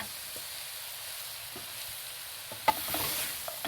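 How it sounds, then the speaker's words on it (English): Potatoes and eggplant being stirred in a hot pan, a soft continuous sizzle with a few scraping spoon strokes and one sharp clack of utensil on the pan near the end. "So now we're mixing."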